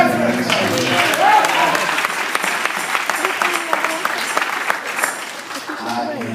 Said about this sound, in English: Come on, clap your hands for him.